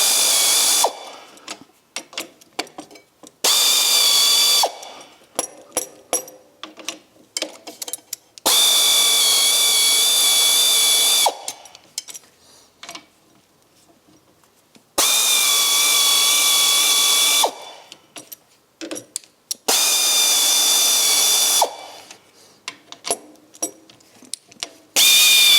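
Power tool with ratcheting pawl undoing the rear leaf spring nuts on an MGB GT, several loud sustained bursts separated by short clicks and pauses, close and alone.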